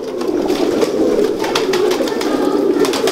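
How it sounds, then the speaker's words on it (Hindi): Pigeons coo steadily in a low murmuring chorus, with bird sounds running throughout, close by and fairly loud, and no talking. "ये जो कबूतर हैं ये सरफराज भाई की 30 नंबर की ब्रीड के नाम से ना जाने पहचाने जाते हैं"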